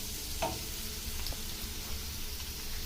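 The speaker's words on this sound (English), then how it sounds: "onion, curry leaf and coriander leaf. Nicely saute it well." Chopped onion, curry leaves and coriander leaves sauté in a pan, making a steady, fairly quiet sizzle with a couple of faint clinks from stirring.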